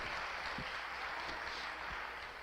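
A church congregation claps in praise, a faint, steady wash of many hands heard from a distance, with a few low thumps scattered through it.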